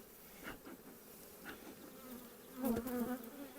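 Honey bees buzz around an open hive during an apiary inspection, a steady nearby drone with individual bees swelling louder as they pass close.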